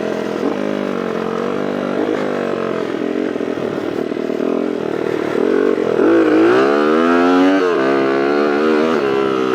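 A Honda CR80 two-stroke dirt bike engine runs close by at Lake El Reno, buzzing steadily then revving up in rising and falling sweeps with a raspy, whining tone.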